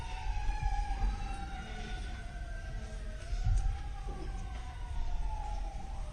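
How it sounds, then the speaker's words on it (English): Emergency vehicle sirens wail outside a courtroom, their rising and falling tones sweeping steadily and fairly loud with a low traffic rumble beneath, no talk. "And hold on for the sirens"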